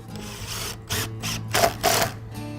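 Large screws driven by a power driver into wooden sled pieces: a few short whirring bursts, close and moderately loud, with brief pauses between them and no talking.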